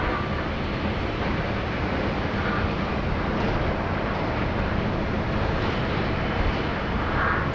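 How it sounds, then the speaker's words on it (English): A Cathay Pacific Boeing 747-8 in old livery taxiing out for departure at Sydney Airport, a steady, loud, broad jet-engine roar with no clear change throughout. "We've got the Cathay Pacific 747-8 in the old livery just taxiing out for departure"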